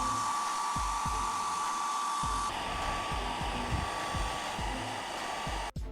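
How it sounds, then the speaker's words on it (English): A hair dryer blows steadily and loudly over a phone skin being applied, with a few soft thumps and taps underneath, cutting off abruptly near the end. "use the hairdryer on all sides for the final process"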